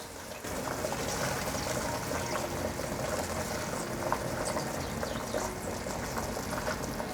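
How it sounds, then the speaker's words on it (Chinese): A pan of sauce with tofu bubbles at a full rolling boil, a dense crackling and popping simmer that runs steadily and fairly quietly from start to finish, with no voices. "酱汁大滚了"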